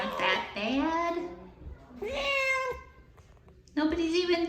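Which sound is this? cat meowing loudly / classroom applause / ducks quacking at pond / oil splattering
cat meowing loudly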